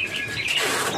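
A green leafbird (cucak hijau) in a cage gives a brief burst of bright chirps, close and fairly clear.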